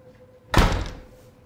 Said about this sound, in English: Locking the door.